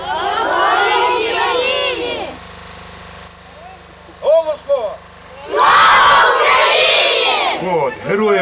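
A large crowd roars a loud shouted chant in two bursts, separated by a quieter stretch with a few single voices calling out.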